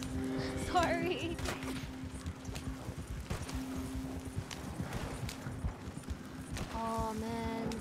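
Horse hooves clip-clop steadily in Red Dead Redemption 2, a rhythmic trot under background game sounds, with a whinny-like tone near the end and a person talking over parts of it.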